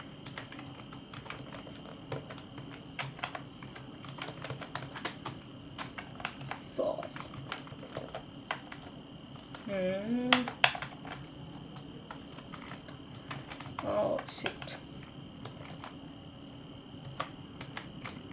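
Keys on a computer keyboard clatter in quick irregular bursts while a name is entered into a spreadsheet cell, close and clear, with a person talking intermittently over the typing.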